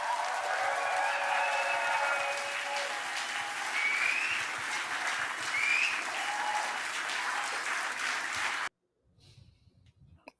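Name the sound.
applause at NDP convention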